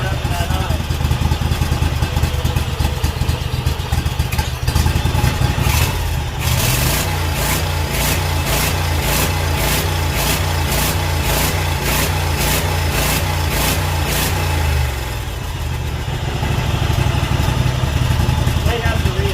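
Garden tractor lawn mower engine modified for off-road fun, revving hard with a rapid pulsing, stuttering beat midway as if struggling at high speed, loud and close, settling back to a rougher running note.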